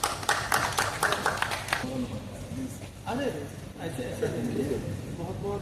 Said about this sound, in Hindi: बाकी लोग ताली बजा दें।